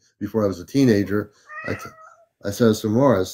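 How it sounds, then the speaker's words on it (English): A pet cat meows in short bursts around someone talking, the calls mid-loud and close, fitting between his spoken phrases. "That's my cat."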